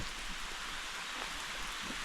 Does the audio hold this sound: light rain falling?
yes